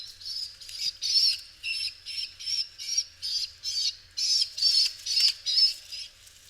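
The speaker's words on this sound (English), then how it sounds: "baby pigeons at this age are called squeakers" A series of high-pitched, squeaky whistling calls from a baby pigeon, repeated in quick bursts about every half second, close and fairly loud.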